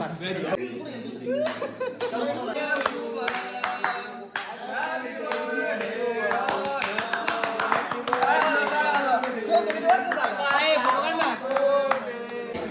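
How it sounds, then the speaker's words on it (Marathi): Hands clapping in quick bursts at a boisterous group hotel meal, mixed with laughter, chuckles and lively overlapping chatter throughout. "टाळ्या वाजव."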